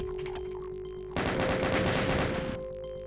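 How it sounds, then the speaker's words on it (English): A chain gun fires in the Ultimate Doom video game, a quick burst of rapid loud shots lasting over a second, set against quieter game ambience with a steady tone before and after. "Probably make more sense for me to use the chain gun."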